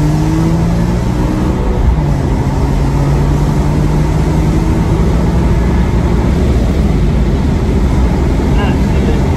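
A BMW M3 E46 with SMG gearbox accelerates hard under full throttle, its engine note rising through the revs, loud and steady from inside the cabin with brief talk over it.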